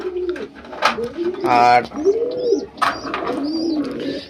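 Fancy pigeons and their chicks in a pigeon house lined with straw coo in deep, rolling calls, close by and fairly loud, mixed with a person talking nearby.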